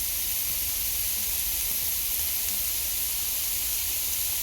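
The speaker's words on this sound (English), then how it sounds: "So I'm going to let that sizzle." Steady, dense hiss of food sizzling in a hot pan, constant and fairly close, with no talking.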